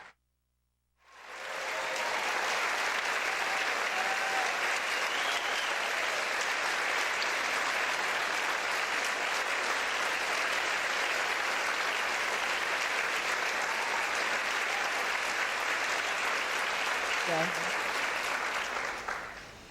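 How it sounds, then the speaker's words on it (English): Audience at a high school scholarship awards ceremony gives sustained, full applause for donors, starting after a moment of silence and holding steady for nearly twenty seconds. "we may give you a round of applause for your generosity"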